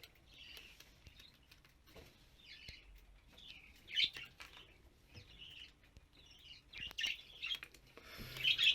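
A young blue spangle budgerigar chick, a male, gives a series of thin, high chirps at roughly regular intervals, faint and close, over light shuffling patter, with some calls a little louder toward the end.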